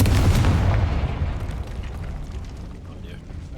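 A Confringo explosion spell cast in Hogwarts Legacy, opening with a loud, heavy boom that rolls off into a long, fading rumble and crackle.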